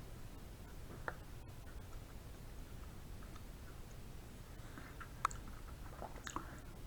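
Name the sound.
chewing a butternut squash seed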